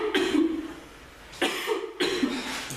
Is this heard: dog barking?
no